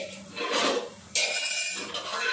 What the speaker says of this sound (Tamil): இப்போ இதில் வச்சிடலாம். வச்சு மூடி 10 நிமிஷம் சிம்மிலே இருக்கட்டும்.